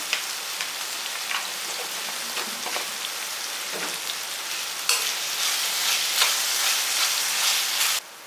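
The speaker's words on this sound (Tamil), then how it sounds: "காய் நல்லா வதங்கட்டும்" Chopped ridge gourd sautéing in a pan with turmeric powder, giving a steady close sizzle and crackle with occasional stirring scrapes, growing a little louder before cutting off near the end.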